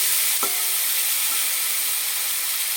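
Ground spice paste hits hot white oil in a wok with a sharp clack, then fries in a constant, loud hissing sizzle.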